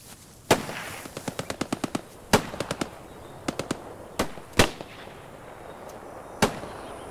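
Combat in the video game Post Scriptum as grenades are thrown at a tank: sharp, close bangs mixed with rapid bursts of gunfire, irregularly spaced over several seconds.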